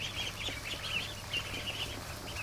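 A tiny domestic duckling peeps in quick, faint high chirps, repeated in a loose stream. Low background noise sits beneath the calls.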